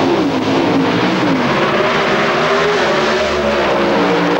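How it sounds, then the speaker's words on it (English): Pro Stock drag race cars, a Chevy Camaro and an Oldsmobile Cutlass, roar at full power at an NHRA national event, a loud continuous engine blare filling the whole stretch. "Kurt Johnson up against Troy Coughlin. Johnson in the Chevy Camaro"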